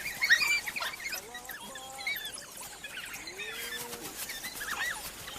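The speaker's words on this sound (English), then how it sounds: "Prey can mistake these sounds for chirps from a harmless flock of birds." African wild dogs make high, bird-like chirping and twittering calls while coordinating a hunt. A rapid overlapping chorus of squeaky chirps continues throughout over a soft outdoor background.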